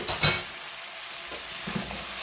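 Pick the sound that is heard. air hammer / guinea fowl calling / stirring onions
stirring onions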